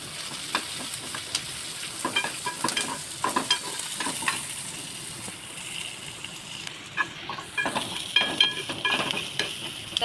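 Onion, tomato and spices frying in oil in a pan, a continuous close sizzle broken by scraping stirs and clinks of a spatula throughout, with no voices.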